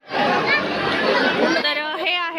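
Dense crowd chatter at Shyam Kund, the bathing tank at the Khatu Shyam temple, where many voices overlap in a close, steady murmur, and one nearer voice rises clearly near the end.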